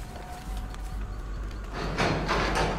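An exit gate opens in the horror game Dead by Daylight. A low mechanical hum swells into louder, grinding, rumbling bursts over a steady ambient drone.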